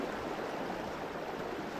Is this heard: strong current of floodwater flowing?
yes